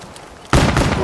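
Gunfire in Black Ops 3 Zombies mode on the Shadows of Evil map, with a sudden loud burst of shots and impacts cutting in after a quiet half second and continuing to the end.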